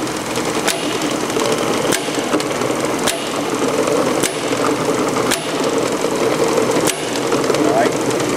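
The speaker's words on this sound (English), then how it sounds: "that's how your cylinder, your container's going to index in and out of here" A filling machine indexes a cylinder container along a conveyor, with a steady mechanical hum and sharp clacks recurring roughly every second, loud and close.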